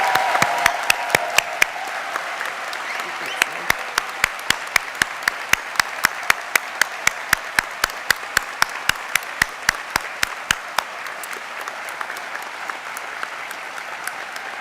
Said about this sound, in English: Can we please have a round of applause for the class of 2026?